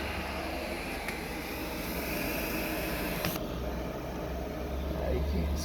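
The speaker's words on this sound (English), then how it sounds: "You can hear my diesel heater just pumping heat out." A diesel heater runs with a steady, even roar of fan and combustion noise that holds at a constant level throughout, with no talk.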